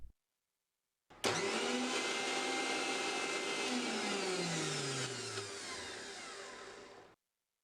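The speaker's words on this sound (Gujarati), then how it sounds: "મિક્સચરમાં સરસ રીતે ગ્રીન ચટણી પીસી લઈએ." A mixer grinder grinds green chutney with a little water added for pani puri. The motor kicks in abruptly, whirs loud and close with shifting pitch for about six seconds, then cuts off.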